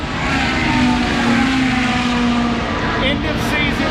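Ferrari race cars at Daytona International Speedway during an end-of-season Ferrari event, a loud sustained engine roar with a steady high whine, continuous throughout the short stretch.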